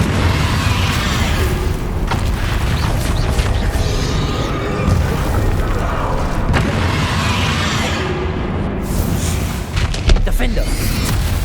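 Confringo spell blasts in the Hogwarts Legacy video game: repeated booming fiery explosions that merge into a dense, continuous roar running the whole time, with a voice speaking over the din.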